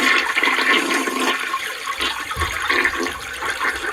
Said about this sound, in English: I flushed him down the toilet